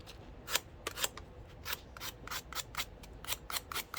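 A pair of scissors is sharpened on a sandpaper block, with a dozen quick, close rasping strokes in an uneven rhythm and short quiet gaps between them.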